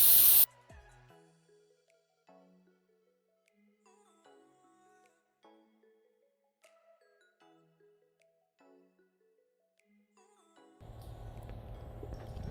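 Engine degreaser sprays from an aerosol can onto a Chevy Cruze engine bay: a short hissing burst, a quiet stretch of faint clinks, then a steadier spray hiss at the end.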